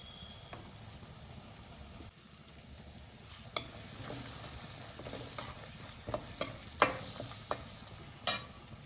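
A tempering fries in a pan as turmeric goes in, for a Dasara festival lemon-coriander prasadam; a soft, steady sizzle with scattered spoon clicks and taps.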